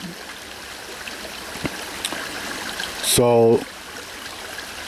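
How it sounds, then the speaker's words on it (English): A large flow of water runs steadily where a tree once stood, with a constant rushing wash throughout, a few faint knocks, and a brief louder burst near the end; someone speaks a word over it. "This is a lot of water."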